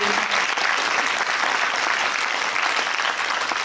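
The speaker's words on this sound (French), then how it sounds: "Christian Vanest, vous pouvez l'applaudir, ancien député." Audience applause at a French public debate on political representation, loud, dense clapping from a seated crowd that runs steadily from start to finish without talk.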